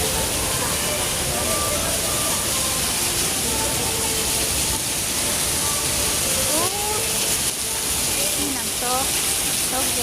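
A waterfall rushes with a loud, steady broadband roar that fills the whole scene, while people talk over it throughout.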